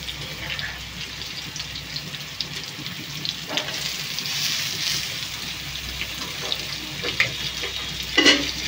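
Soaked soya chunks fry with onions in a pan, a continuous moderate sizzle with faint stirring scrapes and a couple of louder clatters toward the end.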